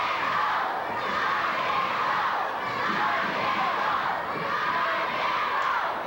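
Wrestling arena crowd at a 1986 NWA event keeps up a steady, rhythmic chant, a dense wash of many voices heard at a distance, continuous and even.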